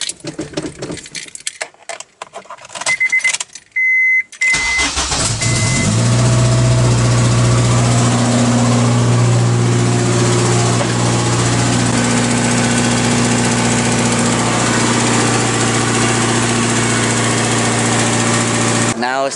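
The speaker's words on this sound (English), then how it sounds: "then we'll do the first startup of the day" An Acura RSX Type S, freshly fitted with a new water pump, cranks briefly and fires up, then settles into a loud, steady idle that continues throughout after a few quiet clicks and rustles at the start.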